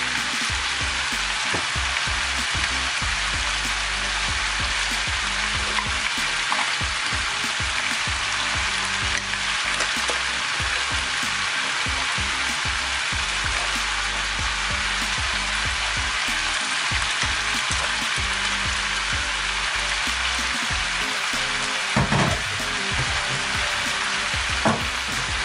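Vegetable rice fries loudly in a pan, a dense continuous sizzle broken by repeated close scrapes and knocks of a spoon stirring it through.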